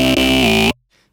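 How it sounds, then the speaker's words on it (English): A Serum synth lead preset played in FL Studio rings out as one loud, buzzy, harmonically rich sustained note that slides slightly in pitch, then cuts off abruptly into near silence. "So the first two synths sound like this."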